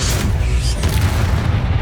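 A loud, deep explosion from the Confringo blasting spell in Hogwarts Legacy, a sustained rumbling boom filling the short stretch close up.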